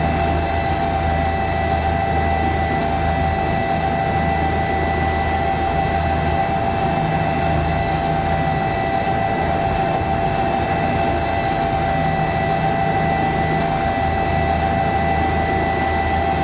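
Bell 206 helicopter in the X-Plane flight simulator, touching down with a toe-in landing on one skid, heard as a steady, loud turbine whine and rotor drone that holds constant throughout, with no talking.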